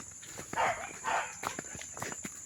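Pigs in a muddy farm pen still under construction give a few short grunts and squeals, close by, amid scuffling and trampling sounds.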